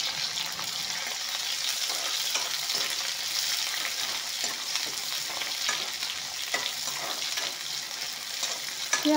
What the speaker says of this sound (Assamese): পিঁয়াজখিনি অলপমান ভাজি ল'ম।